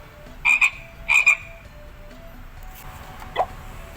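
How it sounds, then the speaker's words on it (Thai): A frog croaks in two short double-pulsed bursts, close and fairly loud, then gives a fainter single chirp after a pause, over a quiet background. "กบ frog,"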